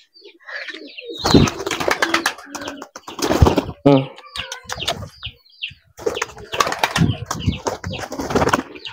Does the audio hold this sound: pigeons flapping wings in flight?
yes